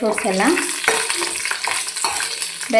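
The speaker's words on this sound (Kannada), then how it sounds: "ಬಾದಾಮಿ ಇಷ್ಟು ಹಾಕ್ಕೊಂಡು ಹುರ್ಕೊಳ್ತೀನಿ ನಾನು ಚೆನ್ನಾಗಿ. ತುಪ್ಪದಲ್ಲೇ ಚೆನ್ನಾಗಿ ಫ್ರೈ ಆಗಬೇಕಿದು." Almonds fried in ghee in a pan for carrot halwa, with a steady sizzle and hiss under repeated stirring and scraping. The frying sounds are near and fairly loud, and brief vocal sounds appear at moments.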